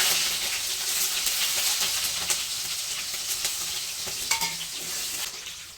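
Mustard seeds and onions fry in hot oil in a pan, a dense continuous sizzle and hiss with stirring scrapes, close and steady throughout.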